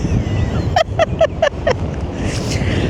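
Strong wind rushes and buffets steadily throughout, with a quick series of five short, evenly spaced chirps cutting through partway in.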